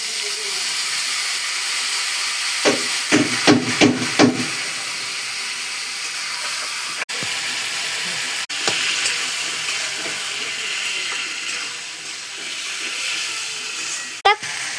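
Tomato and ginger-garlic paste sizzle and hiss steadily in a pan while being sautéed for a Bengali fish curry, with a few brief louder stirring scrapes early on and occasional clicks.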